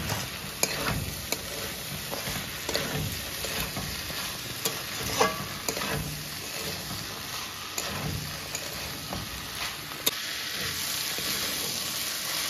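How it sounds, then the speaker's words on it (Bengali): Soaked lentils being stirred into a spice masala frying in a pan for mutton keema dum tadka: steady sizzling with repeated scraping and stirring strokes, close and fairly quiet, with no talk. "ভালো করে ভেজানো ডালটাকে মশলার সাথে মিশিয়ে নেব।"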